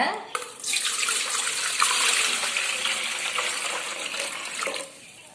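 Water is poured into an idli steamer pot before steaming ragi puttu. A steady splashing gush runs for several seconds close by, then stops abruptly.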